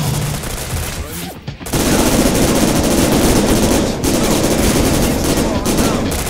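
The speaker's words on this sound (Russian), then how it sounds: "Давайте попробуем сейчас этому молодому человеку выстрелить в голову" Sustained automatic gunfire from the PS2 game Syphon Filter: Dark Mirror forms dense, loud bursts with brief pauses, and someone talks underneath.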